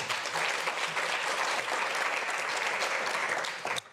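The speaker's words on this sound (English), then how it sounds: "A round of applause." An audience at a university scholarship exhibition gives a round of applause, dense steady clapping from many hands that holds loud for several seconds, then drops off abruptly at the end.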